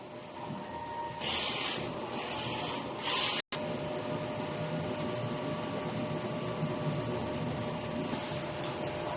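A DTF printer runs a nozzle check, its print head carriage sweeping back and forth with a steady mechanical hiss and whir, bursts of brighter noise in the first seconds, then continuous close machine drone.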